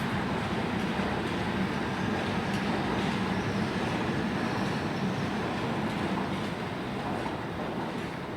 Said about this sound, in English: coming in here is it is a Circle line service that has just come up from Hammersmith